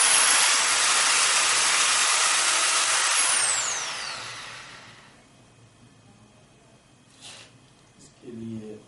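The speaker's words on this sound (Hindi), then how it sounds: "पहले आप इसमें सुराख करें ड्रिल मशीन से" An electric drill bores a hole in a wall fitting with a loud, steady high whirring hiss that runs for several seconds, then winds down and fades, leaving faint background noise.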